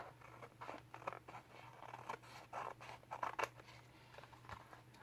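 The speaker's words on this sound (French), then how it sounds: "je reprends des ciseaux et je coupe en suivant le bord de ma cartonnette" Scissors snip paper close up, trimming along the edge of a small cardboard tag in a run of quiet, irregular cuts.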